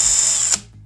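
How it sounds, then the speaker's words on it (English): A drill with a mixing paddle whirs steadily in a 5-gallon tub of epoxy resin, loud and close, then cuts off abruptly. "decided to upgrade our mixing setup to use a drill and a 5-gallon tub"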